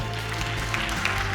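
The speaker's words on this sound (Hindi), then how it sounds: "एक बार जोरदार तालियों के साथ इनका स्वागत।" An audience applauds loudly to welcome Shri Kripal Singh, the guest of honour, at a chapter launch event in Sonipat, a steady wash of hand claps over a low hum of the hall.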